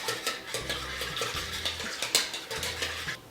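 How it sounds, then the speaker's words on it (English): A pork chop marinade with sticky honey is whisked in a bowl, giving steady, rhythmic scraping and clinking of the whisk against the sides, close and alone. "we're just gonna whisk all of the ingredients together to make sure everything's incorporated, especially that honey in there"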